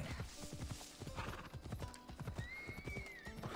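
Hooves clip-clop in a steady rhythm close by, and a horse whinnies partway through, in the video game Assassin's Creed Odyssey.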